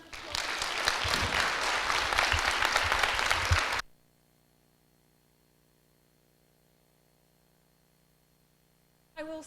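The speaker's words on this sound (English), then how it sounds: "can we give Matt a round of applause?" Audience applause closing a university lecture on mental health, loud and dense for nearly four seconds, then cutting off abruptly into near silence before a faint sound at the very end.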